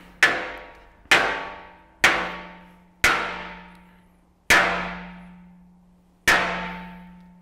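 A club hammer strikes a 6 mm safety glass shower panel six times at an uneven, slowing pace, each blow a sharp ringing clang that decays slowly, with no breakage.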